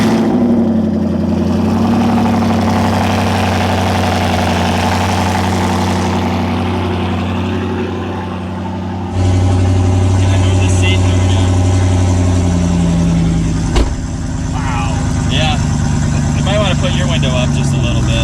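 A 1,000 HP turbocharged Ford Mustang GT with an automatic gearbox fires up and settles into a loud, rumbling idle, close by, with a sharp jump in level as it catches and a blip of revs near the end.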